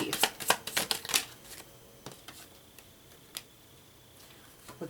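Tarot cards being shuffled and drawn from a deck, a quick run of crisp riffling flicks followed by a few sparse, isolated card snaps, close and fairly quiet with no talking.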